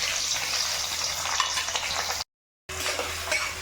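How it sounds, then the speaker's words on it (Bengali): Chopped onions fry in hot oil with nigella seeds for a pabda fish curry, a continuous close sizzle with light stirring that cuts out completely for a moment and then resumes. "পেঁয়াজটাকে একটু ভাজা ভাজা করে নেব।"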